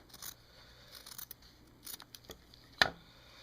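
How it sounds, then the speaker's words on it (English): Scissors trim the seam allowance on a fabric quilt block, giving quiet, close snips and soft rustles in an irregular run, with one sharper clip near the end and no talk. "cut off a 1/4 inch seam allowance"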